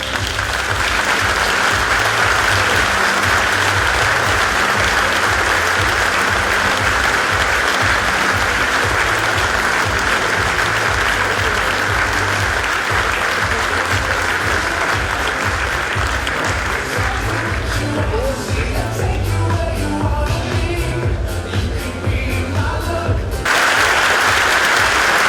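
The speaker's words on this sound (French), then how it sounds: "je vous demande donc d'accueillir sur scène, par vos applaudissements" Sustained, loud applause from a hall audience at a New Year's wishes ceremony honouring a former mayor, dense clapping with a rhythmic beat running for over twenty seconds before easing slightly near the end.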